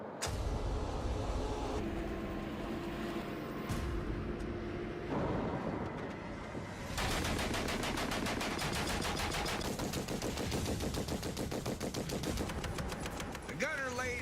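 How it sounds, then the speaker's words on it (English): Rapid machine gun fire from the turret of an M8 Greyhound armored car in combat, long rattling bursts over a running vehicle engine, loud and close, with shifts in texture as firing continues. "The gunner lays down as much suppressive fire as he can, while the driver uses his skills to get us out of harm's way."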